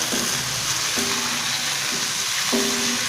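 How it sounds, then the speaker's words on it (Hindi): Onions fry in hot oil in a pan for vegetable pulao, giving a steady close sizzle with a low recurring hum or whine in the background and no voices. "अब इसमें मैंने प्याज डाल दिया। प्याज को हल्का सा लाइट ब्राउन करना है"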